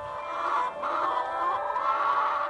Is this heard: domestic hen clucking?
yes